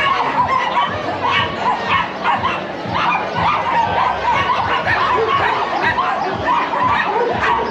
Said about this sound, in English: Totally oblivious to the dog's barking.